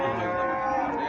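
A Holstein Friesian cow moos at a busy cattle market in Comilla, a sustained, loud, drawn-out low call lasting throughout, with steady crowd noise behind it.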